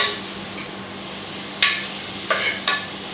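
Onions with salt and slit green chilli sauté in a pan for a Kerala-style egg roast, giving a soft steady sizzle with a few sharp scrapes of a spatula stirring near the end, close and without talk.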